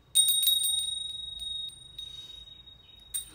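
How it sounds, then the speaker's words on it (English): A small sound healing bell rings with bright, sustained metallic tones. It is struck several times in quick succession, the shimmer fades gradually, and one more strike comes near the end. "and then even like a bell"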